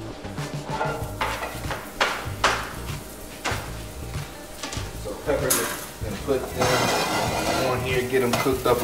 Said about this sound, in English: All right, so I got my peppers cooked up.